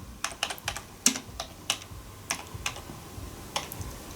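Keys clacking on an Atari computer keyboard, an irregular run of sharp, close presses with short pauses between bursts, one louder strike among them, no talking.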